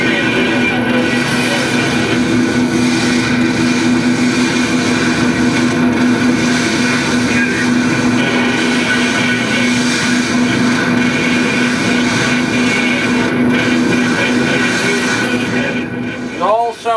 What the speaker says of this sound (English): What you're going to hear in the background are the roar of the engines.